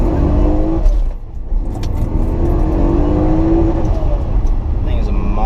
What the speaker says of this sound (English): when it hits that rev limiter, it's just like choo-choo-choo-choo